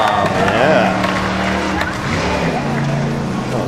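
A vehicle engine revving loudly on a course at the Dew Tour 2022 event, a sustained roaring drone with shifting pitch and tire noise, over crowd noise and speech.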